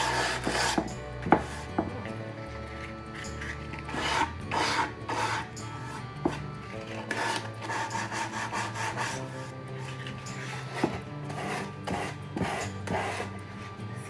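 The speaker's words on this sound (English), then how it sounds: "So I'm just going to do a little bit of distressing here on the edges." Sandpaper rasps over the painted edges of a thrifted wood furniture piece to distress the finish, giving repeated scratchy back-and-forth strokes with a few light knocks, close and steady with no voices.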